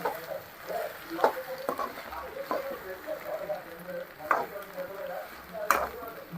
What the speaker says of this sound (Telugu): గుడ్డు కొంచెం ఉడికిన తర్వాత ఇలా కలబెట్టుకోవాలి.